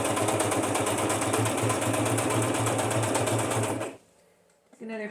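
A sewing machine hums in a steady, close run while stitching red thread through a cardstock journal cover, then stops abruptly into near silence before a brief sound at the end.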